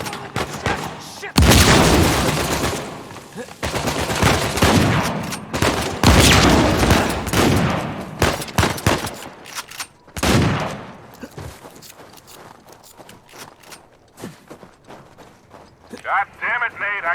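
Bursts of gunfire and booming blasts from the video game Uncharted 4 come in loud, dense volleys with brief lulls, mixed with game sounds and voices talking.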